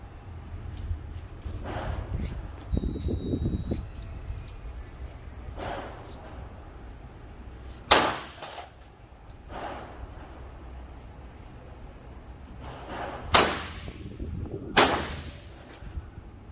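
Shots from a Smith & Wesson Model 625 .45 ACP revolver ring out as several sharp, loud cracks spaced seconds apart, with quieter rumbling and handling noise between them at a shooting range.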